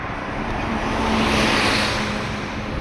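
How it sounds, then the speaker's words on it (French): A bus drives past on a road between Louvain-la-Neuve and Wavre, a broad engine and tyre roar that swells to a peak midway and eases off again, close and loud with no talk. "Un autre bus qui va à Louvain-la-Neuve."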